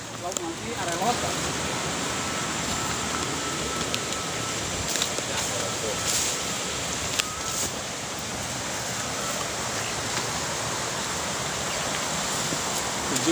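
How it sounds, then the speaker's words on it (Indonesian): The uppermost cascade of a waterfall roars as a constant, loud wash of rushing water. The noise is unbroken throughout, with faint voices buried beneath it. "Kita saksikan di air terjun yang paling atas ini"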